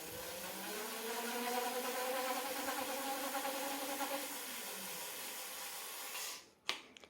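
The 500 W hub motor of an ENGWE EP-2 fat-tire folding e-bike spins the raised wheel under throttle. A steady rising whine with a faint hiss runs for several seconds, then winds down and ends with a few clicks.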